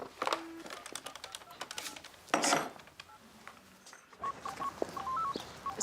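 Clicks and light taps lead into a short series of electronic keypad tones, beeps of different pitches as a phone number is dialed nearby.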